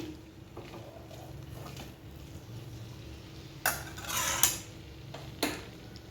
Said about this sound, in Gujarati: હવે આપણે આની અંદર દાણાને નાખી દઈશું અને મિક્સ કરી લઈશું.